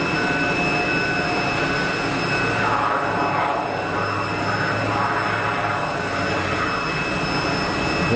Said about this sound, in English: So that's the prop going into beta.